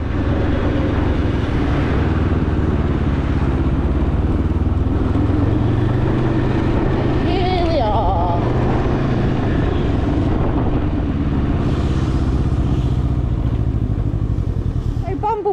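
Can-Am Spyder three-wheeled motorcycle with a 600cc twin Rotax engine of about 50 brake horsepower running, a loud continuous engine rumble under someone talking.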